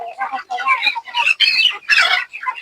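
Chickens in a poultry farm pen cluck and squawk in a steady run of close, overlapping calls, a flock gathered together with younger birds among larger ones.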